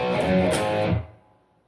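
An overdriven electric guitar plays a power chord riff: one dense distorted strum held for about a second before decaying to quiet.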